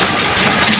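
Vehicle engine idling close by during a street election campaign, a loud steady low rumble with no breaks.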